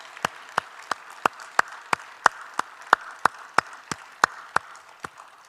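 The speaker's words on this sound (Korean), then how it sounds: "하나님께 영광의 박수 올려드립니다" A church congregation claps together in a steady unison rhythm, about three sharp claps per second over several seconds, fairly distant and otherwise quiet.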